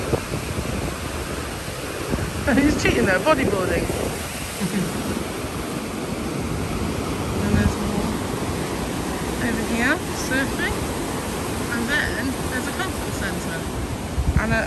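Steady broadband surf wash rolls on throughout at Gran Canaria, with a surfer out on the waves and people talking over the ocean noise.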